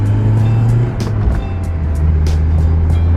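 A BMW project car on old tires drives and drifts, its engine droning loud and close with a steady low hum that shifts pitch, while brief bursts of tire noise flare over it.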